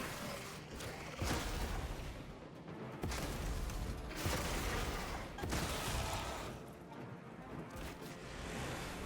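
An incinerator weapon firing at a Helldrake in a video game, a dense, roaring sustained blast with rhythmic surges and booms, loud and continuous over about nine seconds.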